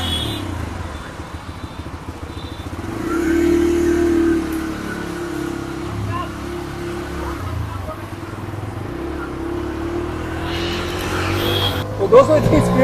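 A Bajaj Freedom CNG motorcycle, switched to petrol, idles with a steady engine hum and then revs up as it accelerates, with a swell in the middle and a sharper rise at the end.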